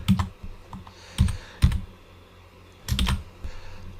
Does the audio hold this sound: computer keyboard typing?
yes